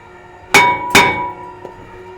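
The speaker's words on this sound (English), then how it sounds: "sometimes an actual hit on them, like you were driving with an impact gun, will break them free" A hammer strikes seized Phillips screws on a Honda brake rotor twice, with loud, close metallic clangs that ring out, followed by a faint tap.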